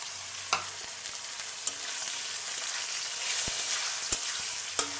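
Ginger and garlic paste frying with browned onion in a pan, a steady soft sizzle with a few sharp clicks of stirring, heard alone without talk.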